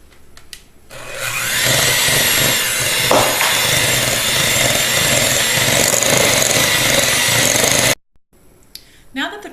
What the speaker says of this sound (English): I go ahead and blend this together with my handheld mixer